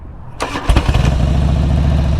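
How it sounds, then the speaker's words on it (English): A motorcycle sitting in neutral is started with its electric start button: a short starter whir, then the engine catches and settles into a steady, loud idle close by. "that's how we start the motorcycle"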